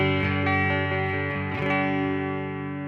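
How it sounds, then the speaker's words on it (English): A sustained, clean electric guitar chord on the neck pickup rings out after a few quick plucked notes, slowly fading as it sustains. "This is my clean tone on the neck pickup."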